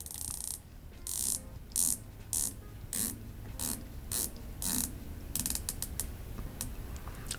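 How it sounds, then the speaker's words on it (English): Rotating bezel on a Matterhorn Divemaster 300 automatic dive watch with a lumed aluminum insert, turned in short bursts of crisp ratcheting clicks separated by brief pauses, close and clear in a quiet room. "So let's listen to the bezel action."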